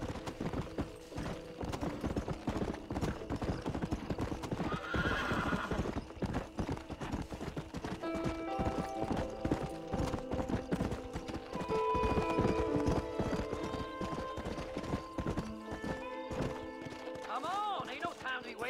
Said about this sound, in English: Committing a little bit of horse theft